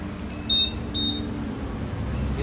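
Two short high electronic beeps from a Honda ADV 160 scooter's alarm remote, each lasting about a tenth of a second, sounding close over a low steady hum.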